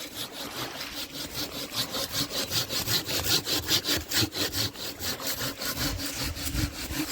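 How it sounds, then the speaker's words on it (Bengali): Wood being hand-sawn outdoors for cooking fuel, a steady run of rhythmic back-and-forth strokes, close and fairly loud, continuing without pause and with no talk. "তা এই কাঠটা কাটা হবে"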